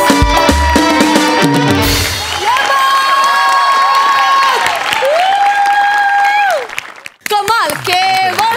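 Loud applause and cheering from an audience after a stage performance fill the opening seconds, then give way to sustained music with a voice over it.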